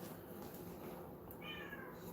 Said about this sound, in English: Never heard a cat meow that weird before.